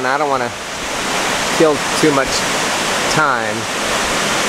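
Steady broadband roar of a waterfall at Fancher and Burgess Falls on Center Hill Lake, heard from a boat, continuous and fairly loud beneath someone talking throughout.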